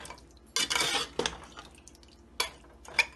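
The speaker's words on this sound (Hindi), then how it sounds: "थोड़ा सा चलाएंगे ताकि दही में दाना ना बने और ये बिल्कुल मिक्स हो जाए।" A spoon scrapes and knocks around a pot in a few short bursts, stirring thick yogurt for chana daal gosht, with quiet pauses between strokes.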